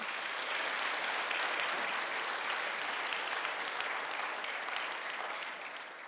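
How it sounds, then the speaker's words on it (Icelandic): Church audience at an Advent celebration at Lindakirkja giving sustained, dense applause, steady and loud throughout, tapering slightly near the end with no talk over it. "Gefið þeim gott klapp"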